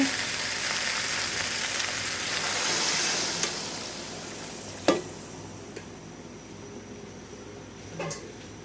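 Broth poured into Batangas-style kaldereta simmering in a pan, giving a steady hiss and sizzle with a few sharp clinks of a utensil against the pan.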